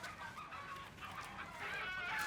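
A live chicken bought at a market clucks faintly and intermittently against noisy street background, distant and low in level.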